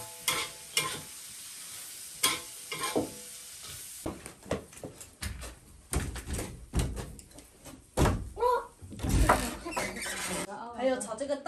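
A pan of food being stir-fried and tossed in a rural home kitchen, with sporadic scraping and clattering strokes and a light sizzle, interrupted by a few knocks and bumps, fairly quiet overall.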